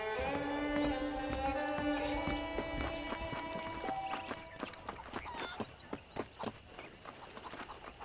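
Horse hooves clip-clop in Red Dead Redemption, a steady rhythmic trot growing clearer toward the end, beneath sustained tonal music and ambient noise.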